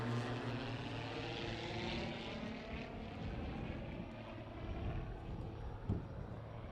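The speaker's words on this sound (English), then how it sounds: "Zoltan Varez is going to show his skills of aerobatics." A propeller airplane flies an aerobatics display at the World Air Games in Dubai, its engine droning steadily with a pitch that shifts as it passes, fairly distant and even throughout.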